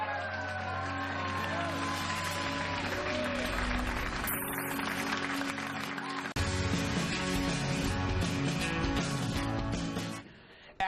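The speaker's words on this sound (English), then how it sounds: "They're booing." A television studio audience reacts with a loud, sustained wash of crowd noise throughout, with a brief dip midway before it continues and trails off at the end.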